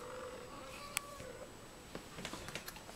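A cat makes a faint, brief meowing sound amid quiet room noise, followed by soft scattered clicks and rustles.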